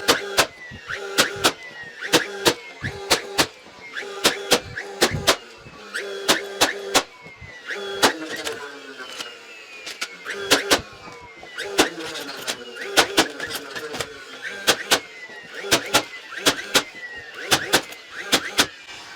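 A nail gun fires into a wooden greenhouse skid in rapid bursts of sharp, loud cracks, some shots sounding weaker as it misfires, close up with no talk.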